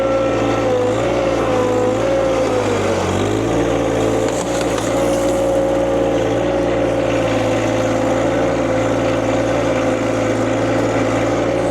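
A non-turbo four-wheel-drive tractor engine runs at a steady, loud drone close by, its pitch dipping briefly as the load shifts, then holding even throughout with no talk.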